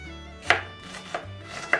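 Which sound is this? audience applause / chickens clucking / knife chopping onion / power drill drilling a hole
knife chopping onion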